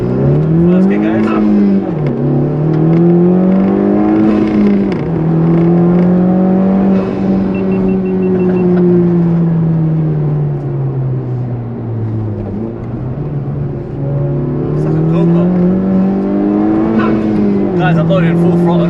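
Honda Civic Type-R FK2 under full-throttle acceleration: a loud, close engine drone rises in pitch through the gears with shift dips, heard from inside the car while someone talks over it.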